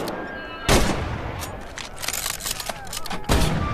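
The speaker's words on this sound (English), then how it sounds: "The K98 is a bolt-action rifle, so you reload by pulling and pushing the bolt after each shot" K98 bolt-action rifle shots in the Medal of Honor VR game on Quest 2, two loud sharp cracks spaced a few seconds apart with fainter clatter and a voice murmuring in between.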